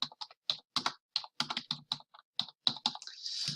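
Rapid keystrokes on a computer keyboard as a school name is typed, a close, quiet series of light clicks in uneven bursts with brief pauses, ending in a longer run of taps.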